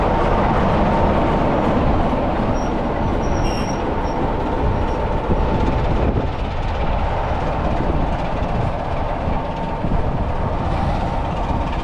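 Class 26 diesel locomotive 26007 working as a guest engine on a heritage railway, a steady loud rumble of engine and rolling wheels with faint squeals, sustained throughout at close range.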